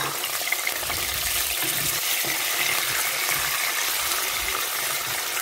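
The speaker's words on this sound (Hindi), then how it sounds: "प्याज को अच्छे से सौते करें।" Onions sautéing in a pan with dried red chilies, a dense, steady hiss of frying with faint stirring rustle underneath, close and continuous.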